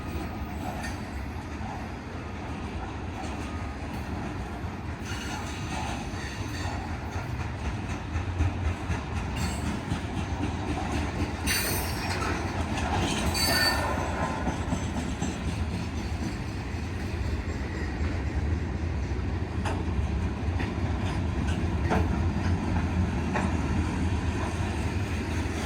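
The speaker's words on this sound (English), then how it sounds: "My last VRE train" A VRE commuter train rolls past in Washington DC with a steady, loud rumble of wheels on rails for the whole stretch, including some clickety-clack and occasional squeals.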